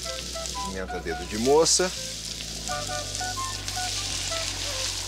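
Half a kilo of ground beef with garlic, onion, dedo-de-moça chili and American pepper sautés in a pan, giving a steady, moderately loud sizzle that runs the whole time beneath someone talking.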